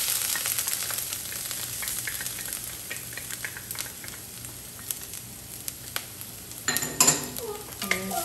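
Ginger and garlic frying in a pan for orange chicken, a steady close sizzle throughout with a few brief utensil clinks and scrapes near the end.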